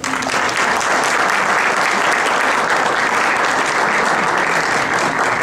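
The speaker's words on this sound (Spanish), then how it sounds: "la recibimos con un fuerte aplauso" An audience gives loud, sustained applause at a Spanish-language talk on family and the media, a dense wash of clapping that stays even and close for the whole span with no speech over it.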